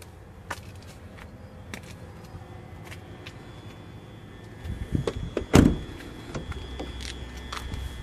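A Ford car door is opened inside a quiet parking area, with faint clicks and handling noises first and then a louder thunk and rattle of the latch and door swinging open.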